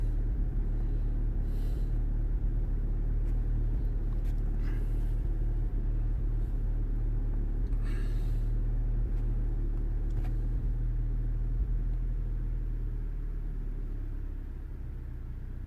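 A Volkswagen Golf GTI engine idling steadily after a misfire repair, a smooth, even low rumble held for the whole stretch with a few faint clicks on top and no speech.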